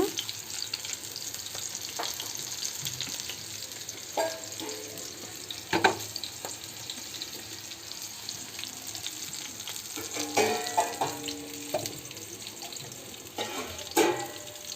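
Green chillies fry in a pan on a stove, a steady close sizzle with occasional stirring clinks and scrapes.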